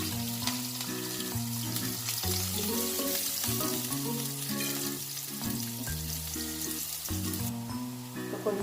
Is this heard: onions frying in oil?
yes